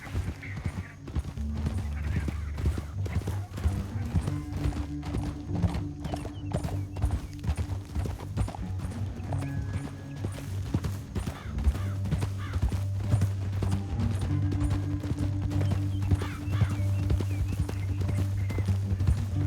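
In Red Dead Redemption 2, continuous rapid hoofbeats of horses galloping, steady and fairly loud, with low rumbling tones and occasional whinnies mixed in.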